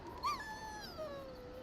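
A war dog whimpers in the fantasy role-playing game Dragon Age: Origins, one short high whine bending upward then trailing into a softer, falling moan, close and alone.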